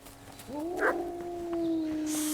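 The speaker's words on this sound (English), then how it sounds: "Wait, do I hear wolves?" Wolves howl in a medieval forest landscape: one long, rising then sustained howl, fairly close and clear, with fainter yips and background ambience under it.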